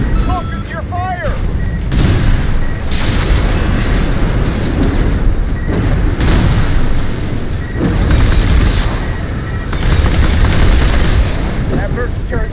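Heavy video game gunfire and explosive booms from mech combat in Armored Core 6, loud and continuous in dense bursts, with voices speaking over the battle.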